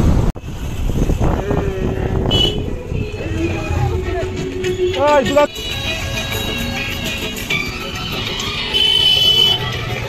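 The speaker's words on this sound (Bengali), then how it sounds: "এখানে হাওয়ায় আর বাইকের আওয়াজে কথা বলা যায় না" Gusty outdoor wind roars steadily across the microphone while motorbike engines rumble and pass nearby, with voices talking throughout.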